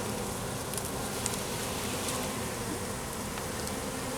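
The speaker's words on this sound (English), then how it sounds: "I'm just gonna help a few more of these bees into" Honeybees buzz at a hive entrance during swarm prevention, a dense continuous drone of many wings close by, steady in loudness with no voices.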